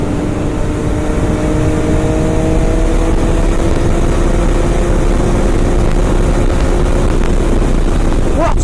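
An MV Agusta F3 motorcycle engine on a cold winter ride, a steady loud drone with a sustained tonal hum, rising slightly toward the end as if revving, with wind noise throughout.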